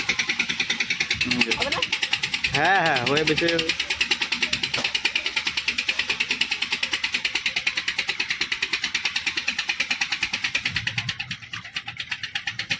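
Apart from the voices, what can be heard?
motor boat arriving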